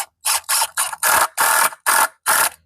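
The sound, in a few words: driving screws into wood while building a chicken tractor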